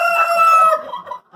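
Chickens cluck loudly up close while a rooster crows through the first half, then quieter clucks trail off.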